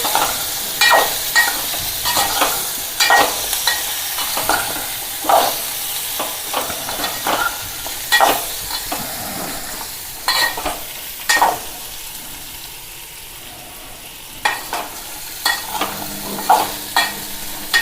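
Potatoes with green chillies and curry leaves stirred in a hot pan: repeated scraping strokes of a spoon in an irregular rhythm over a steady sizzle, close up, with no talking.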